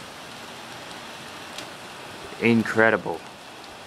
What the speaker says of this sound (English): It's only been raining for about like 2 minutes or 2 seconds ago.